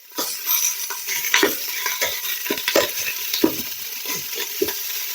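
Pork fat from a pork shoulder frying in a pan for green chile, a loud continuous sizzle with repeated scraping stirs of a utensil against the pan.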